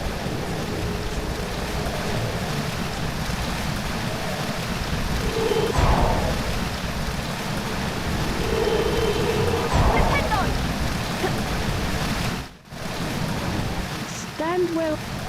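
A waterfall roars in the PS1 game Harry Potter and the Chamber of Secrets, a steady loud broadband rush throughout, with brief faint tonal game sounds and a momentary dropout near the end.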